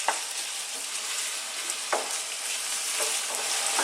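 Beef stew ingredients frying in a pot, a continuous bright sizzle with a few short stirring scrapes, close and steady, no voices.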